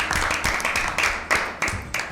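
An audience at an Easter Bible quiz claps for a team that answered correctly, a run of about seven close, fairly loud claps in a quick uneven rhythm.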